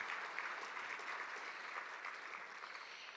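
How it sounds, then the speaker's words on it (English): Sustained applause fills a large hall at a regional business conference's annual meeting after a ribbon-cutting announcement. The many hands blend into a steady, moderately distant wash that fades slightly toward the end. "Can we give them a round of applause?"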